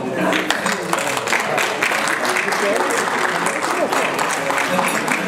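Dense applause from an audience at a padel Grand Prix medal ceremony, steady and fairly loud throughout, with a murmur of voices beneath the clapping.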